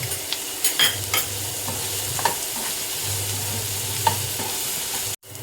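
Onions sautéing in coconut oil for a chicken masala, a continuous close sizzle with repeated scraping stirs of a spoon against the pan, ending in a brief sharp knock.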